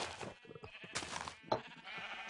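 Several sheep bleat in a Minecraft field of rainbow-dyed sheep, short wavering calls overlapping close by and at moderate loudness, with one sharper bleat standing out midway; no one speaks.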